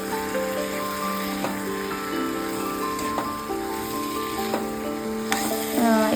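Boiled potatoes tumble into a hot frying pan for an Andhra-style potato tomato curry, with a steady close sizzle running throughout and a few scraping, stirring knocks.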